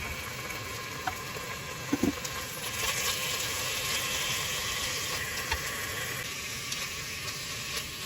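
Meat frying in oil in a large pot for Japanese tonjiru stew gives a steady soft sizzle and crackle, with a few sharp pops and utensil clicks near the start and no talk.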